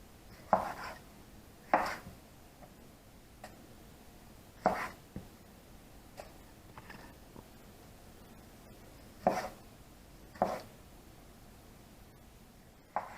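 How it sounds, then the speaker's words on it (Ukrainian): Knife chopping tomatoes for a salad on a board, a handful of sharp, spaced thuds landing irregularly over a quiet background with no talk. "Все, зараз ми нарізаємо бігом помідорки."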